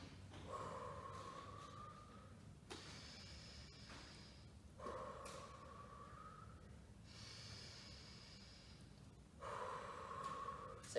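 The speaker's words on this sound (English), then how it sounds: "we're going to take 3 deep breaths" Three deep breaths during a workout cool-down, each a long audible inhale followed by a slow breathy exhale, close and evenly spaced with quiet pauses between.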